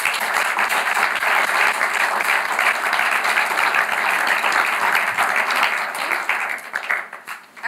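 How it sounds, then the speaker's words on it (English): Lecture audience giving a big round of applause for the speaker Gabriella, dense steady clapping filling the room and tapering off near the end. "big round of applause for Gabriella"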